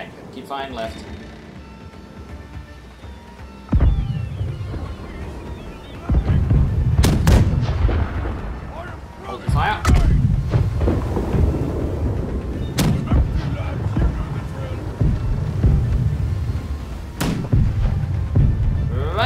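Ship cannons firing in a naval battle in the pirate video game Blackwake, heavy booms repeating every few seconds over a constant rumble, with someone talking throughout.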